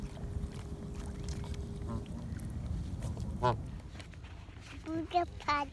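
Geese honk a few times in quick nasal calls toward the end, over a low rumble of outdoor background noise.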